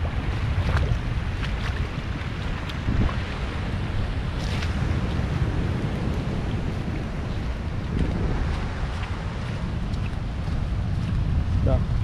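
Water pouring across a cut-open road on its way down to a river, a continuous loud rushing close to the microphone, with wind buffeting and a few clunks over it.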